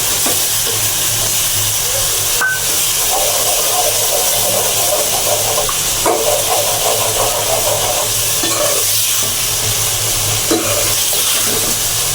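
Ginger and cumin paste fries in a pan for a rohu fish curry, giving a steady, fairly loud sizzle and hiss with occasional stirring scrapes throughout.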